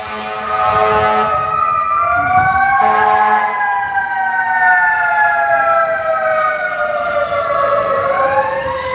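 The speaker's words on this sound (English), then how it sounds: "sorry, sirens." Wailing emergency sirens with rising and falling tones, loud and continuous, several overlapping as vehicles pass nearby.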